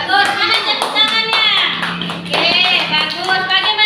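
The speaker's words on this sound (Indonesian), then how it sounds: "Mana tepuk tangannya?" Students in a classroom clap in rhythmic bursts while voices sound over and through the clapping, close and fairly loud.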